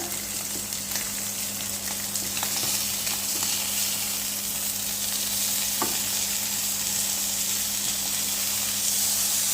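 Fish fillets sear in a hot frying pan with a continuous bright sizzle and hiss, broken by a few soft clicks and scrapes as the fish is moved.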